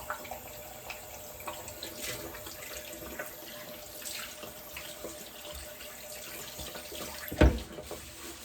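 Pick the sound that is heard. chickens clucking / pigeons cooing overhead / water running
water running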